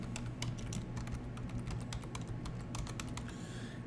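Rapid clicking keystrokes on a computer keyboard as a Linux command is typed, an uneven run of close, crisp taps over a low steady hum.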